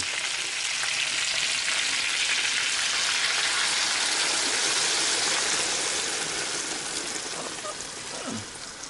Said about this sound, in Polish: Zalaliśmy to wodą, nieprawdaż?